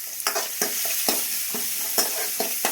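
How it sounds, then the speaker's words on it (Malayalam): Onions, curry leaves and spices sizzle steadily in a hot pan for a Kerala village-style chilli tamarind curry, with a spoon scraping and stirring in repeated strokes over the constant frying hiss. "നന്നായിട്ട് മൂത്ത് വരുന്ന വരെ ഇളക്കി കൊടുക്കണം കേട്ടോ."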